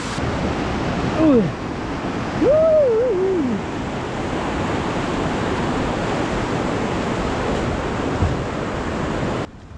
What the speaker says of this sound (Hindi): ये हाइड्रो पावर प्लांट हाउस है जहाँ बिजली बनती है, उसी का पानी नीचे बहकर आ रहा है